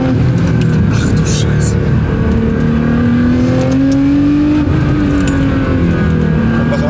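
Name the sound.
Nissan GT-R R35 accelerating, revving engine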